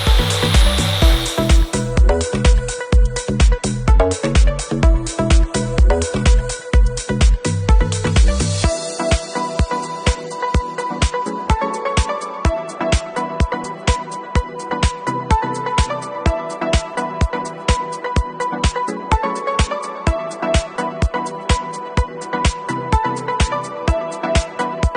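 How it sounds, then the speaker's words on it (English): A power saw cuts a series of lines into concrete around a damaged surface area, producing a loud, sustained whining grind broken by rapid, regular pulses throughout. No one speaks. "We're going to make a series of saw cuts, and then we're going to chip out the concrete back to a level base"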